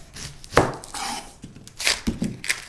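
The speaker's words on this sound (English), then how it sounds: "When slicing an onion, cut off your root end" A knife cuts an onion on a cutting board with a few distinct sharp chops and thuds spaced irregularly, close and clear, with light shuffling between strokes.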